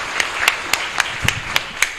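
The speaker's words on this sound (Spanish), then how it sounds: "Fuerte aplauso para nuestra comunidad" A congregation claps together during Mass in a chapel. Crisp, evenly spaced claps land in a steady rhythm of roughly four per second, near and fairly loud, with no talking over them.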